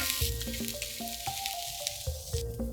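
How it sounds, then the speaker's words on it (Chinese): Shrimp stir-fried in a hot wok with green and red peppers, garlic and scallions, a loud close sizzle broken by repeated clanking tosses and spatula strikes at an uneven rhythm, no talk. "炒出这个香味之后呢，就可以把这个虾倒进去"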